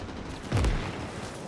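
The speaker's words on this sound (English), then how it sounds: "Even under withering mortar fire, we're going to keep firing at them." A single heavy boom, like a mortar round landing, rises out of a steady background of gunfire in a WW2 Saipan video game mod, followed by continuing distant battlefield noise.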